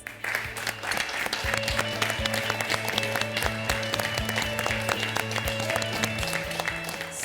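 A studio audience applauds steadily on a cooking competition show, many hands clapping together over a background of sustained musical tones.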